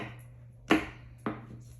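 Two sharp knife chops on a cutting board, well spaced and close, cutting vegetables such as an onion, over a quiet low hum with no talking.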